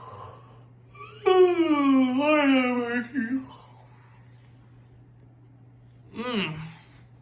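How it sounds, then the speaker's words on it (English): A long, drawn-out yawn with a rising then falling vocal groan, followed a few seconds later by a shorter second yawn-like exhale, close and fairly loud. "Forgive me for the yawning, everybody."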